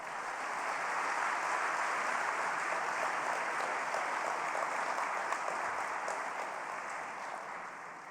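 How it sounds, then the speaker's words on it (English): Large audience at a teacher award ceremony and gala dinner giving sustained applause, a dense even roar of clapping that holds steady for several seconds, then eases slightly at the end. "Please, a round of applause for teachers of the world."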